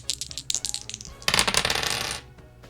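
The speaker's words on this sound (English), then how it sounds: "Let's use the purple starry dice." Dice clatter and roll across a table, first as a run of quick separate clicks, then a dense rattling burst that fades out.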